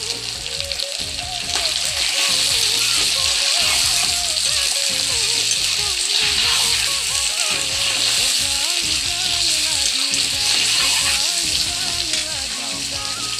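Meat frying in a wok with ginger, garlic, onion and chili gives a loud, steady, close sizzle, broken by regular scraping stir strokes throughout, with a voice speaking faintly over it.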